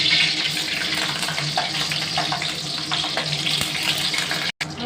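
Loud, steady sizzling of curry leaves dropped into hot oil, a dense crackling hiss with a few brief pops, no voices.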